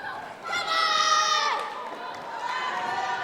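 A wrestling crowd at a WAR event cheers loudly, swelling into a sustained roar with shrill, excited voices that peaks midway and then settles into steady background crowd noise.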